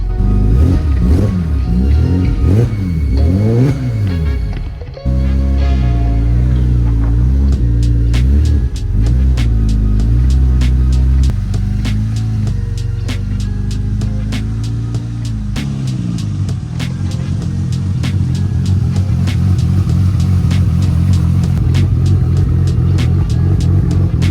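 A car's engine revs loudly and close up as it is driven out of a garage, a heavy rumbling drone that rises and falls through several throttle blips and then settles into a steady hum.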